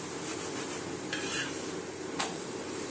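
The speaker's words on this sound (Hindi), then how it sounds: "बनास्पति घी अब मैंने इसके ऊपर डाल दिया है और ये अच्छे तरीके से एक साइड से कुक हो जाता है" A paratha sizzles in vanaspati ghee on a pan, with a steady hiss of frying and a couple of sharp scraping clinks from a utensil against the pan.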